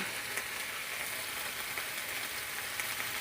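Bacon sizzles and crackles steadily in a pan while being pressed flat against the bottom, a constant, fairly quiet hiss of frying fat with tiny pops and no voices.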